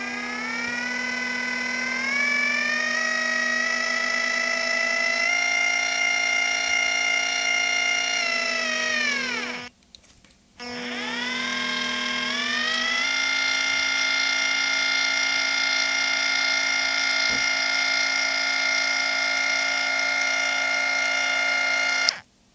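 A small DC motor linear actuator on a BTS7960 H-bridge board, recorded with the mic pressed against it, whines steadily and loudly at close range, stops briefly at its limit switch, then whines again in the other direction.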